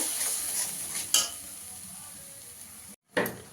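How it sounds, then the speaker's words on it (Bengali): Spice masala with cumin powder and salt being sautéed and stirred in a pan, a close continuous sizzle under scraping strokes of a spoon, with one brief gap in the sound. "এবার মশলাটাকে ভালো করে কষিয়ে নেব।"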